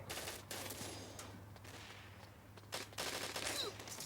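An MP5 submachine gun fires in the video game Bullet Angel, with rapid bursts of shots over a low steady game hum, a few separate clusters of gunfire at moderate loudness.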